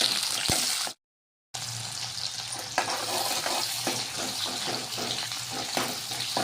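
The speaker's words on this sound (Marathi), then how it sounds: "हा कांदा टाकायचा यामध्ये. कांदा कलर येईपर्यंत छान होऊ द्यायचा आहे आपल्याला." Chopped onion fries in oil in a pan, giving a continuous loud, crackling sizzle with occasional stirring scrapes. A short silent gap interrupts it early on, and no one talks.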